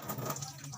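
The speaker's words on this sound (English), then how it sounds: "First, wet your hands with clean, preferably running water." A running tap pours water for hand washing, a steady broadband splash and hiss that holds at an even level through the brief moment, with no voice over it.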